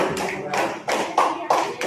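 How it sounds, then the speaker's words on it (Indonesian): Applause in a classroom, students clapping for a classmate after he reads aloud at Universitas Mataram; several bursts of hand claps swell and fade in waves, fairly close and lively, with no talking. "Tepuk tangan buat Kevin."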